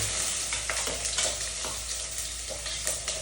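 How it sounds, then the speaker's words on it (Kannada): Onions and green chilies fry and sizzle steadily in hot oil, with a continuous hiss broken by a few stirring scrapes, close and fairly loud, no voices. "ಈರುಳ್ಳಿ ಮತ್ತೆ ಮೆಣಸಿನ್ಕಾಯಿ ಹಾಕೋತಾ ಇದ್ದೀನಿ ಎಣ್ಣೆ ಕಾಲ್ಬಿಟ್ಟೆ ಚೆನ್ನಾಗಿ ಚೆನ್ನಾಗಿ ಫ್ರೈ ಮಾಡ್ಕೋಬೇಕು"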